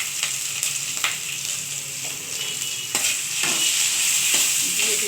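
Panch phoron, dried chillies and bay leaf frying in hot oil, a steady close sizzle broken by several sharp crackles and stirring scrapes, growing louder toward the end.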